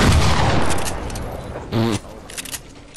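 Gunfire in a video game crackles as a short rapid burst amid game noise, fairly loud and brief, with muffled background sounds around it.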